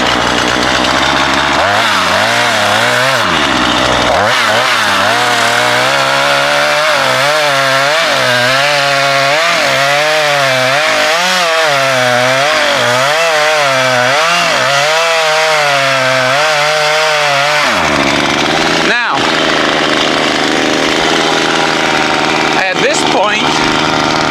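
A chainsaw roars close by while felling a tree, its pitch rising and falling as it bites into the back cut above the V notch, then drops to a rough idle before briefly revving again.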